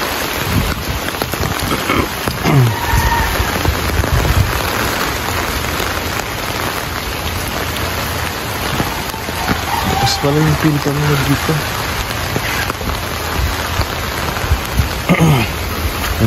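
Heavy steady rain pours down during a typhoon, a dense constant wash close by, while someone talks over it in several stretches.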